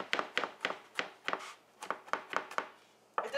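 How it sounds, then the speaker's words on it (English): A knife chops and minces a garlic clove on a board in a steady run of about a dozen crisp, close thuds at a brisk, slightly uneven rhythm, with a short pause near the end. "Chop up this garlic clove so it's finely minced."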